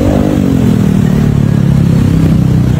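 A motorcycle on a busy Philippine street lined with eateries gives a loud, close, steady engine drone with some clatter.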